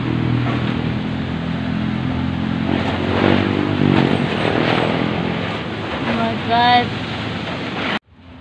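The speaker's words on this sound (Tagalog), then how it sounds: "sobrang lakas talaga ng hangin, baka papalandfall na yung bagyo" Strong wind gusting ahead of a typhoon making landfall roars loudly and continuously against the microphone, a broad rushing blast that swells slightly near the middle before cutting off abruptly at the end.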